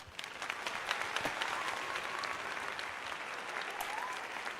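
A round of applause rises from a crowd at a spring training baseball game between the Philadelphia Phillies and Boston Red Sox, a steady patter of many hands clapping at moderate distance for several seconds.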